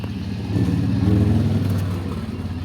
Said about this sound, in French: Désolé pour le bruit de moto